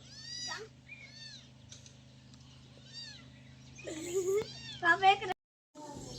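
Kittens meow in repeated short, rising cries at close range over a steady low hum while children play with them, with a louder burst of mewing near the end before a sudden cut.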